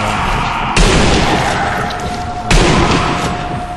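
Two loud, sharp gunshots in the zombie shooter Nazi Zombie Army, about two seconds apart. Each one cracks and then booms and rings out over a constant background hum.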